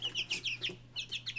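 Two-week-old Black Jersey Giant chicks peep in close, shrill, rapid chirps that come in two quick bursts separated by a brief gap, over a low steady hum.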